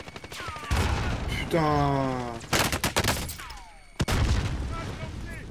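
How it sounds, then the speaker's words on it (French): Gunfire bursts crack out in a Call of Duty: Warzone match, with several sharp shots and rapid fire amid game effects, while someone talks and exclaims over the battle. "On me tire dessus."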